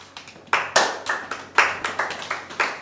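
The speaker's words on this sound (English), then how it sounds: "Everybody clap." A small group of people claps in a short, uneven burst, individual hand claps distinct and fairly close, with a few stronger accented claps and no talk over them.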